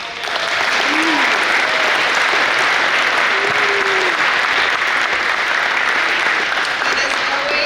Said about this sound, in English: I'd like to ask for one round of applause